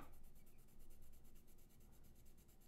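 A colored pencil lightly coloring on paper, making a soft rapid back-and-forth scratching in an even rhythm, close and very quiet with no talking.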